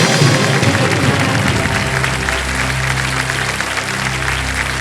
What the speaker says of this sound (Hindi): तालियां बज जाएंगे।